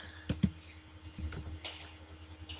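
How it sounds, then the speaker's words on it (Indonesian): Keys on a computer keyboard tap a few times during AutoCAD drawing work: two sharp, close clicks followed by softer scattered taps, quiet and with no talking. "kemudian tekan spasi atau enter pada keyboard ya"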